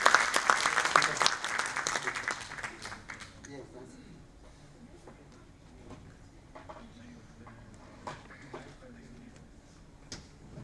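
An audience at a Hindi poetry recitation event breaks into loud, dense clapping that gradually thins out and tapers to scattered claps, with light background murmur.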